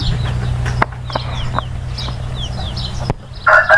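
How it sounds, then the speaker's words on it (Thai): Chickens clucking softly and intermittently over a steady low rumble, with brief chirpy calls and a louder squawk near the end. "ไก่กินหญ้าไก่อยากกินเศษหญ้า"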